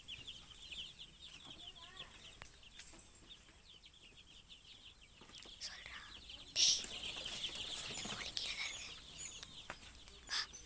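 Chickens and chicks, some sickly or with poorly grown legs, cluck and cheep in quick repeated high chirps, with a louder call near the middle; a voice talks faintly underneath.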